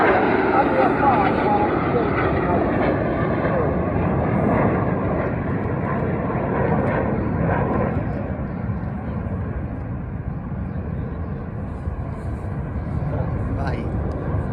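Red Arrows display jets roaring overhead at the Air Tattoo while trailing red and blue smoke, a loud sustained jet rumble that eases slightly midway and then swells again, with a commentator talking over it.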